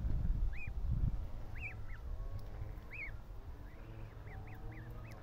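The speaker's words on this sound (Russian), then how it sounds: "Гуси маленькие. Кушают траву, щиплют." Goslings walking and grazing on grass outdoors, giving repeated thin high peeping calls in short bursts, fairly close but quiet over a low wind rumble.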